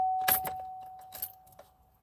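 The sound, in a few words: key jiggling in a stuck car ignition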